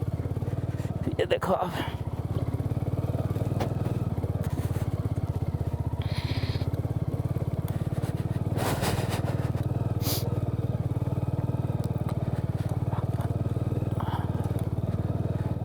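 A lightweight motorcycle rides a rough forest road near a village in Darjeeling, its engine droning steadily up close with rattles and crunches from the uneven track, while someone talks over it.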